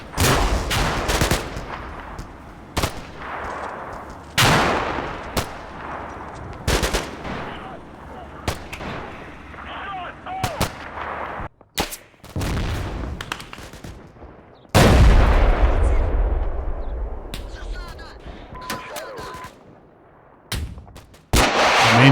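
Gunfire in the Cold War tactical game Combat Mission Cold War, loud bursts of machine-gun rattle and heavy single shots with booming impacts, irregularly spaced across the stretch with brief quieter gaps.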